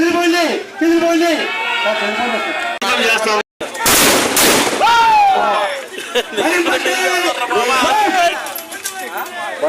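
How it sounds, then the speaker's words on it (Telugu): Police open fire during a riot-control mock drill in Kadiyam, staged ahead of election counting: one loud, sharp burst of shots cuts through near-constant shouting and talking voices. "వారిపై కాల్పులు జరుగుతున్నారు"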